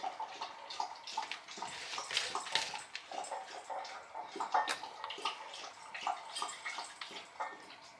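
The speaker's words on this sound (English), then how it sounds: "That's Abby getting a drink of water" A dog laps water indoors in a rapid wet rhythm, quiet and close, with slurping splashes continuing throughout.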